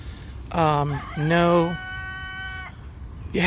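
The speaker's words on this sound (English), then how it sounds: "There's some roosters hanging out over here on this closed road." A rooster crows nearby on a closed road in Oviedo, Florida, a loud two-part call ending in a long drawn-out note, with another crow starting right after.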